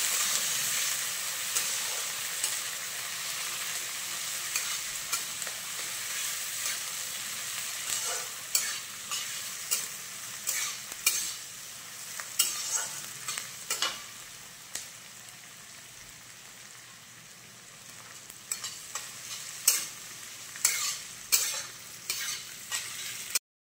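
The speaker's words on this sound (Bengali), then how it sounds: "এবার দিয়ে দিলাম কুচনো পেঁয়াজ।" Chopped onions fry in hot oil with whole spices, a steady sizzle broken by repeated scraping stirs that grow more frequent toward the end.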